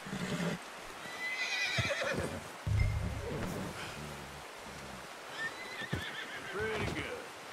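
A horse in Red Dead Redemption 2 whinnies several times while hooves clip-clop beneath, the calls rising and falling over rustling outdoor ambience, with a voice talking intermittently.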